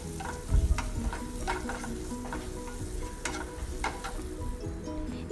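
Green chilli and curry leaves sautéing in hot oil, a close, steady sizzle with repeated spatula scrapes and taps against the pan, and no voices.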